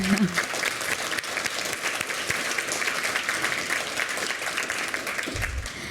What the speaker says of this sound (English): Can we have a round of applause for all of these people?